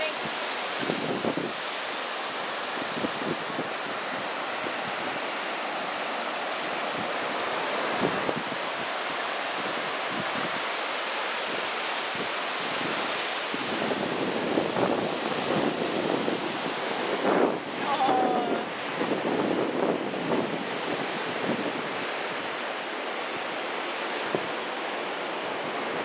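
Ocean surf rolls onto a beach in a constant broad wash, with gusts of wind buffeting the microphone and a few faint thumps, steady and moderately loud throughout with no talking.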